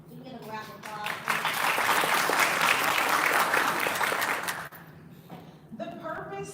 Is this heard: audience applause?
yes